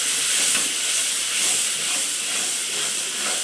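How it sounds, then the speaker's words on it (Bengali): Spice paste frying in a pan as a little water is added before eggs go in, producing a loud, steady close hiss and sizzle that holds without a break and has no talk over it. "বন্ধুরা মশলাটা কষে আমি সামান্য জল দিই।"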